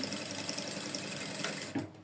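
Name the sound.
sewing machine stitching a trouser pocket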